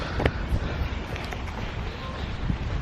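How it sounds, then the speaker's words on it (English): Strong wind near Loch Lomond roars against the microphone in rain, a loud, gusty rumble that swells and falls, with some soft clattering. "It's too windy, it's too wet now."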